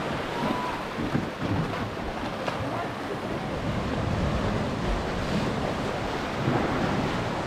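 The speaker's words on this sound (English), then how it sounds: "You can walk near the sea." Sea waves wash steadily against the shore beside a coastal walking path in Budva, Montenegro, a continuous close surf roar mixed with wind buffeting the microphone.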